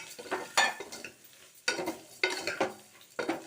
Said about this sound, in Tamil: ஏன் நம்ம கோதுமை ரவா இந்த நெய்யோடு சேர்த்து வறுத்துக்கிறோம்